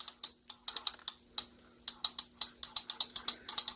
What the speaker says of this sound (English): they had sort of a clicker sound